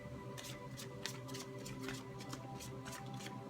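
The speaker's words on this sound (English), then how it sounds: "We'll shuffle 3 times again." A deck of tarot cards is shuffled quietly by hand in a series of soft, riffling bursts at close range, with no talking.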